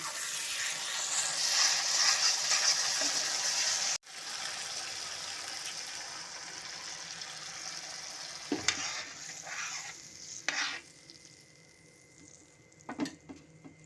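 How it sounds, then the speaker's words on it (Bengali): Water poured into a spiced paneer gravy in a hot pan brings a loud, hissing sizzle that drops off suddenly. Softer bubbling follows, along with a few scraping clinks of stirring. "এখন আমি এর মধ্যে দিয়ে দেব পরিমাণ মতো জল।"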